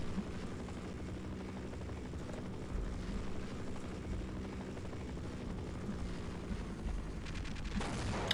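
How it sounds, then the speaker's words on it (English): Helicopter in the video game Half-Life, a steady low rotor drone carrying on throughout amid game noise, with a brief burst of gunfire-like crackle near the end. "that helicopter isn't even on either side"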